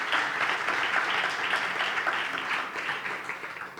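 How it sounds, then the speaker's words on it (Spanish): Audience applause at a live event, a dense and steady clapping from a crowd, loud and continuous, fading slightly toward the end with no talk. "Un aplauso a vosotros por estar aquí."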